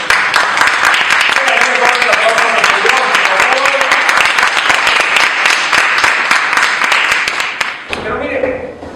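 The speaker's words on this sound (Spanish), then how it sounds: "Damos un aplauso a Dios." Loud, dense congregation applause fills a church for about eight seconds, then drops off suddenly as a voice begins speaking.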